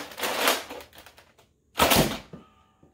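Nerf Centurion toy blaster firing foam darts from a 10-round magazine, two loud, close bursts of air and mechanical thump separated by a short gap.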